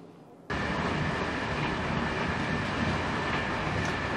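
A train travelling on rails heard from inside, a sudden loud onset into a steady, dense rumbling roar with a faint high whine, continuous and close.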